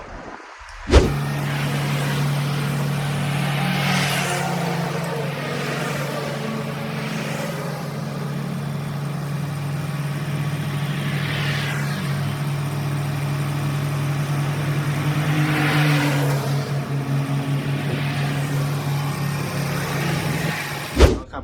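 Caterpillar 950 wheel loader engine running steadily while the machine is driven, a continuous low diesel drone with a strong hum and occasional louder swells and rattles, no talking.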